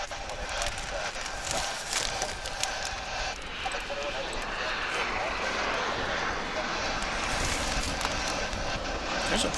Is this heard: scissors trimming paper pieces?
no